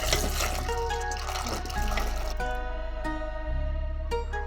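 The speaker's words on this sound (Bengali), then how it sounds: "এবার এঁচোড়গুলো আমি ধুয়ে নেব।" Jackfruit pieces being washed in water, with running, trickling and splashing water close by, steady throughout and shifting in tone as the vessel fills.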